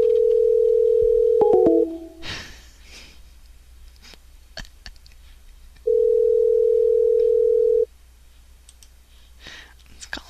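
A telephone call tone for a callback, a steady electronic beep held for a couple of seconds, then silence and a second identical tone, loud and clear between faint clicks and a soft voice.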